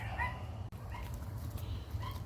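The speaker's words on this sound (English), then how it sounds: "while the dogs are barking in the background" Dogs barking and yipping at a distance, faint scattered barks behind a quiet outdoor backdrop.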